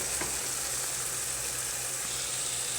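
Spices hitting hot oil with ginger, garlic, tomato and green chili masala in a pan, a steady, fairly quiet sizzle and fry with faint stirring, no talk.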